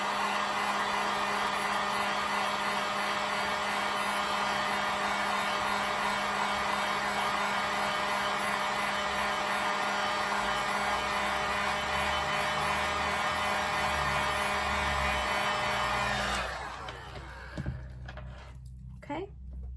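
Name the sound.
hair dryer drying watercolor paint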